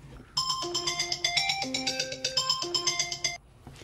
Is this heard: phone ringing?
yes